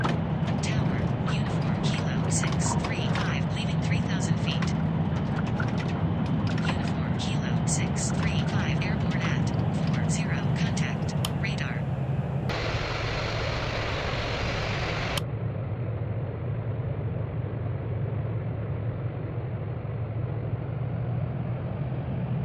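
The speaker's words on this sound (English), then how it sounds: "Clear for takeoff runway two seven." Airbus Beluga XL cargo jet engines spooling up for takeoff in the RFS flight simulator game, a steady loud roar that holds throughout and drops in texture partway, with radio-style speech over it.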